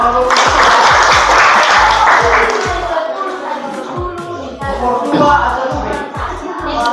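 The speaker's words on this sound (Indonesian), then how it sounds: "Tepuk tangan." Classroom applause during an Indonesian lesson, a burst of many hands clapping together, loud at first and thinning into scattered claps, with children's voices chattering over it.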